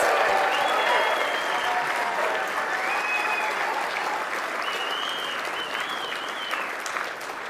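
A seated audience at the 2024 National Lacrosse Hall of Fame induction ceremony claps steadily in a large room, a dense, sustained round of applause with faint cheers and whistles rising over it.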